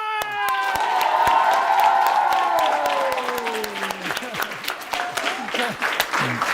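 An audience at a live event cheers, whoops and applauds loudly, with shouting voices swelling early and sharp claps continuing throughout, close and energetic.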